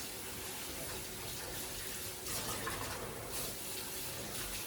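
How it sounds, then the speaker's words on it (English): Running water rinses PVC-coated fabric after a degreaser treatment, a faint, steady splashing flow like a tap over a sink, continuous with slight surges and no voices. "remove some of that excess oil from the PVC in that fabric and then rinse it real well"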